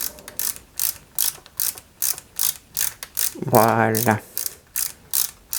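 A small type F screw with a washer is driven into a 1/4-scale Valentino Rossi motorcycle model, giving a close, rhythmic series of sharp ratcheting clicks from the screwdriver, interrupted briefly by a short spoken word.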